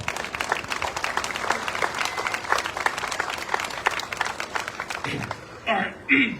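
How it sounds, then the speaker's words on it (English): Crowd at the Jackson Apple Festival gives Brian a round of applause, steady clapping at moderate volume that thins out near the end, with a voice speaking briefly as it fades. "give Brian a big round of applause"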